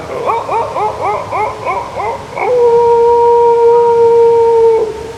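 A person mimics a distant dog, first with a quick run of yips, then a single long, drawn-out howl that holds steady before stopping.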